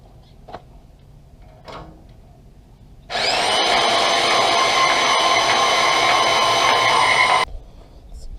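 A Harbor Freight bandsaw cuts steady and loud through stock for about four seconds, its bright whine holding even before it stops abruptly, with faint clicks and handling noise around it.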